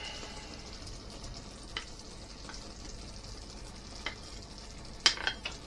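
Pieces of wild rabbit frying in a pan for a Moroccan-style tagine, giving a quiet, steady sizzle with occasional stirring scrapes and a sharper clatter near the end.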